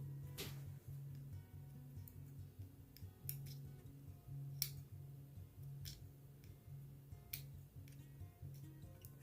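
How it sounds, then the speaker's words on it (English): Small scissors snip thread repeatedly in quiet, sharp clicks spaced irregularly, with a low steady hum underneath. "All we're doing is cutting the thread."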